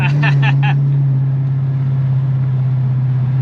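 A car fitted with a Whipple supercharger accelerates on an open road in Mexico, a steady loud engine drone with a strong low hum persisting throughout, with brief talk near the start.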